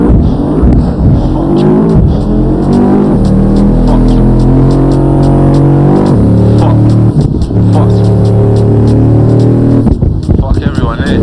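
A Mercedes-Benz C63 drives on a rainy road, its engine note loud and steady with rising and falling revs, heard from inside the car under loud music and occasional talk.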